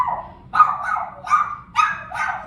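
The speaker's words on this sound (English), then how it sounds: "yes, we have dogs." Dogs bark indoors in a quick string of about five sharp, fairly loud woofs, with short yips between them.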